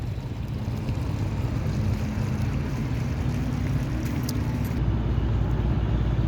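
A motor trawler loaded with sand crosses a river carrying its cargo from India, its engine a steady, close, unbroken drone mixed with wind and water noise.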